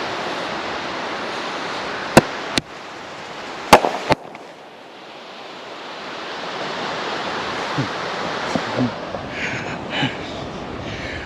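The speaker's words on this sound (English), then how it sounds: "this is kind of exciting, having these small shells break right there in my face." Phantom Fireworks Copperhead mini shells burst close by with a few sharp, loud cracks early on, then give way to a steady broad hiss and crackle that swells and lingers, with faint pops toward the end.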